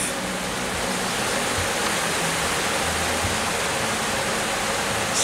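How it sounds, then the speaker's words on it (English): Brief rain shower falling outdoors in Trinidad, a steady, dense hiss of rain that stays even and continuous throughout with no voices. "shower of rain coming in, which happened the same time yesterday morning"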